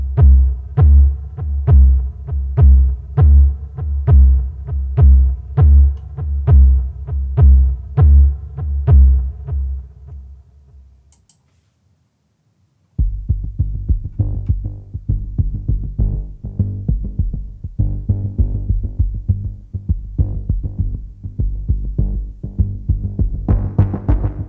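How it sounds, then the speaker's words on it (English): Zebra Arkhangel synth preset with distortion and filter sweeps: a heavy, pulsing distorted synth throbbing in steady rhythmic bursts, a brief silence, then a denser, grittier repeating pattern. "There's a good amount of distortion and grunge and dirtiness on the mod wheel, and also the usual sort of filter opening and closing kind of vibes"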